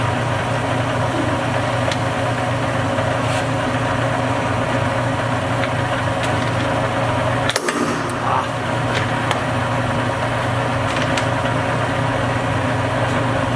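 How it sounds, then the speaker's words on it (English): A Jet 13 x 40 inch gap bed engine lathe runs with a steady, even mechanical hum and whir that holds throughout, broken only by one brief click partway through. "13-inch by 40-inch jet engine lathe."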